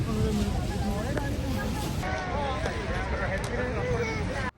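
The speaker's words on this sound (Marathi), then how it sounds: "तर आता बोटीचा प्रवास चालू झालेला आहे प्रचंड वारा" Strong wind buffets the microphone on a boat's upper deck near Niagara Falls over the boat's steady rumble, while a person talks throughout.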